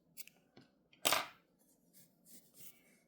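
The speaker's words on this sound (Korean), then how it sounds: "이렇게 쭉 빼서 가위로 잘라주세요." Scissors snip through crochet yarn close by, a sharp crisp cut followed by several faint rustles and small clicks in a quiet room.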